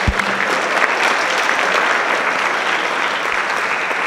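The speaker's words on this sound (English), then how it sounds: "Can you give these kids a real big round of applause for really sticking to this program?" Loud, dense audience applause at a high school spring band concert, a continuous full round of clapping from a large crowd that fills the entire stretch without any talk.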